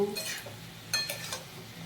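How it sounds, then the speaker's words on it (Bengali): Boiled banana stem with fried potatoes is sautéed in a pan, giving a short burst of soft stirring scrapes and a few spoon clinks against the pan over a faint sizzle. "আর সেদ্ধ করে রাখা থোড় দিয়ে দেবো এবার কষিয়ে নেব"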